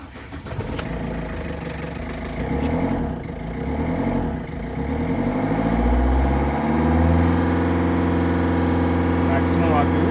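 Ford Figo TDCI diesel engine, a car with no pickup and a powertrain warning, cranks and then keeps running, a steady low rumble that rises and settles as revs climb and hold, loud and close throughout.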